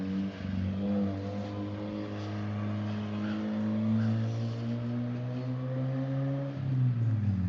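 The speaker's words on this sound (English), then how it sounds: "that car sounds like shit" A loud engine drones steadily, shifting pitch as it revs, like a powerful car running nearby with no voices.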